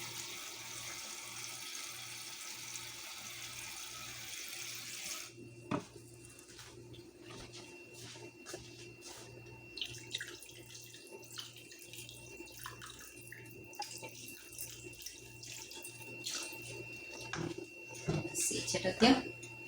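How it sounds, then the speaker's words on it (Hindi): Water is poured into a pot of taro root and bone-in beef curry, a steady close rush for several seconds that gives way to quieter kitchen clatter. "इसमें 4 मग पानी डालूंगी मैं"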